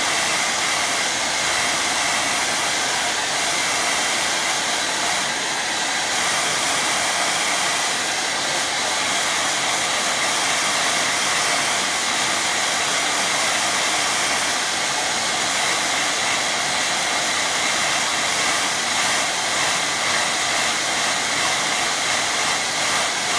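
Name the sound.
hair dryer drying a watercolour painting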